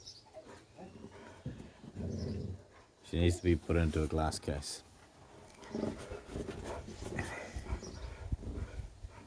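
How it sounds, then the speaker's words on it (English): Dogs bark in a quick burst of several sharp, loud yaps in the middle, with a person talking before and after and calling out to them. "There go the dogs."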